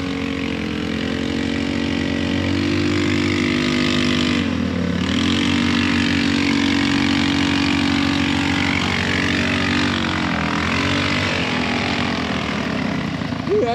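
A go-kart engine drones loud and steady on slickrock, its pitch dipping and recovering twice as the straining clutch bogs under load during a winch-assisted climb, with faint voices beneath.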